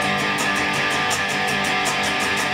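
Loud, distorted electric guitar power chords hammered with all downstrokes in a steady, driving rhythm, each strum landing with even punchy attacks, no voices.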